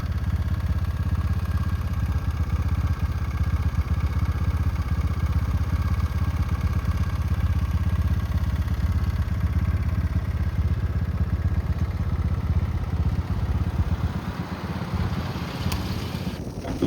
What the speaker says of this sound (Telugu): ఈ రోడ్డుని వేసే మిషనరీ ఇక్కడైతే వచ్చింది